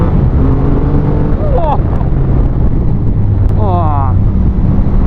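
A 2020 Triumph Rocket 3 GT motorcycle accelerates hard, its engine a loud continuous roar under heavy wind rush, with the pitch climbing in rising sweeps as it pulls through the gears.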